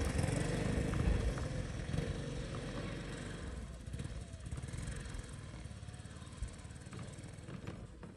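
A scooter engine running during an offroad outing in the fields: a steady, noisy buzzing drone with a rough rattling texture that continues throughout and gradually eases slightly in loudness, with no clear stall heard.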